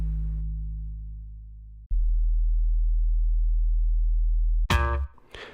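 Synthesized 808 bass tones from drum machine software play one after another, a deep sustained boom fading out, then a second long steady bass note, then a short brighter hit at the end.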